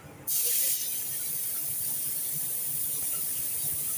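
A spray gun switches on abruptly and hisses steadily as it sprays paint onto an Aston Martin sports car during a paint repair, loud and close.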